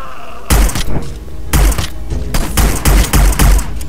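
Bursts of gunfire from shooting an enemy in Hitman: Blood Money, with a machine gun among the weapons: loud, close volleys of rapid shots arriving in several clusters with brief pauses between them.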